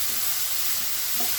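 Grated carrots cooking in a pan for carrot laddu give a steady soft sizzle, with faint scraping from stirring now and then, close by and without voices.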